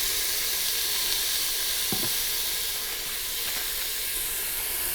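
Carrots sizzle in a Cosori electric pressure cooker for a chunky beef stew, a steady close hiss with a faint clink or two partway through.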